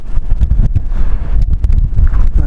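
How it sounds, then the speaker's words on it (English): Strong wind gusting around a parked RV, a steady low rumble of buffeting with rattling bursts, loud and continuous with no voices. "this is the windiest I've seen it out here"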